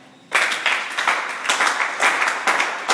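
A church congregation breaks into loud, sustained applause during a sermon on prayer. It starts abruptly after a quiet moment and continues in swelling waves of many hands clapping at once.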